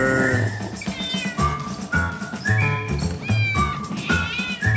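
Several cats meow loudly and repeatedly at close range in a Trolli gummy candy commercial, the calls overlapping with some caterwauling over a low rhythmic background.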